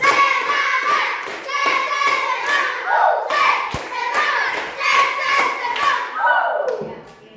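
A class of children claps their hands together in a steady, repeated rhythm, with young voices chanting loudly over and between the claps throughout.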